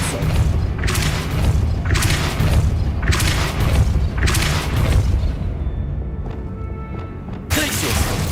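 Depulso force spell cast in Hogwarts Legacy: a series of heavy booming thumps at an even rhythm of about one per second, loud and close, with a rumbling combat wash between hits and a final burst after a short lull.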